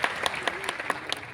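Brief audience clapping at a live Gujarati comedy show in Botad, with scattered individual claps standing out against a soft crowd background.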